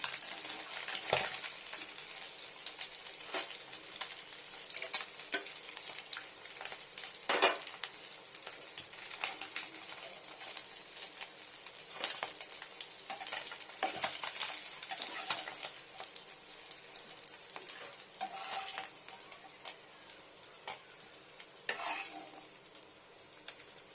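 Small freshwater fish, rubbed with mint, garlic paste, salt, turmeric and chilli, frying in a hot pan, a steady faint sizzle with occasional scrapes and clinks of a spatula stirring, no voices.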